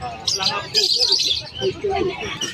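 Hagoromo parakeets chirp at a busy Malabon pet market, a string of bright, high, close tweets over about two and a half seconds, with a faint murmur of crowd voices underneath.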